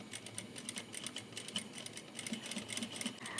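A sewing machine stitches a zipper pouch, running steadily and quietly with rapid, even needle clatter throughout.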